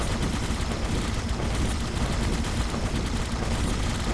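Rapid shotgun blasts in the mech shooter game Mech Fortress, dense and loud, one sustained barrage of overlapping gunfire with no pauses, no voices.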